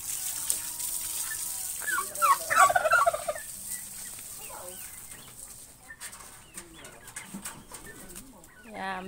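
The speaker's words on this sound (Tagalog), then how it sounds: "Daming pabo!" Turkeys on a rural farm give a burst of loud gobbling, followed by scattered softer calls from other fowl at close to middle distance.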